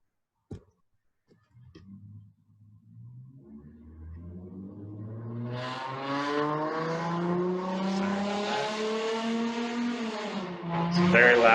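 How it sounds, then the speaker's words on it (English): A loud car drives past outside a house, its engine rising gradually from near silence into a strong, sustained roar that builds and swells toward the end, heard alone without talk. "It's a very loud car driving past my house right"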